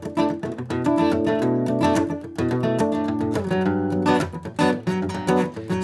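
An acoustic guitar is strummed through minor 11 chord voicings in quick, busy rhythmic strokes, with bright ringing chords and short pauses, close and clear with no talk.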